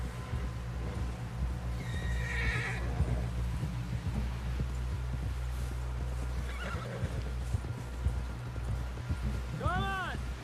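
A horse in the video game Red Dead Redemption 2 gives a couple of whinnies over steady hoofbeats, with a low ambient hum underneath and a final rising neigh near the end.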